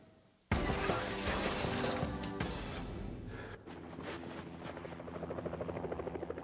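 A rescue helicopter preparing for a winch rescue at Kleine Scheidegg below the Eiger north face roars in suddenly and loudly, then settles into a steady rotor thrum with a pulsing chop toward the end.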